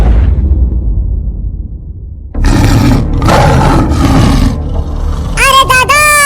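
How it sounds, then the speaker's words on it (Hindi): Lion roars in a comedy jail skit: after a quiet stretch, loud rough roars burst in around the midpoint and repeat in several swells, ending with a brief tonal cry, with no talk during the sound. "ये तो शेर की दहाड़ने की आवाज है।"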